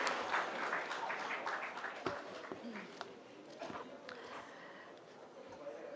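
Audience applause welcomes a speaker at a tourism session of Pravasi Rajasthani Diwas in Jaipur, a steady, moderately loud patter of many hands continuing throughout.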